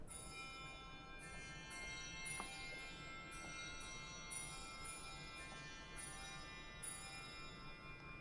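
English handbells stop of a large pipe organ in Washington DC, heard with the enclosure doors closed: a soft, muffled series of bell strikes at a steady pace, their ringing tones blending into a quiet, distant shimmer.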